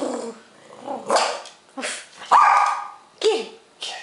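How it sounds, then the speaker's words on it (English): A dog barks and growls in short, loud bursts while playing, with several separate yips and barks close by and brief pauses between them. "this is your dog"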